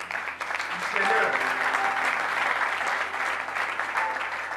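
A church congregation claps after a Bible reading, steady and full applause close by that fills the room, with voices mixed into it.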